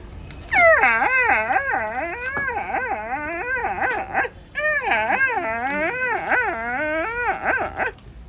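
A voice imitates a hungry dog, with long wavering whimpers and whines rising and falling in pitch, briefly pausing midway, close and loud.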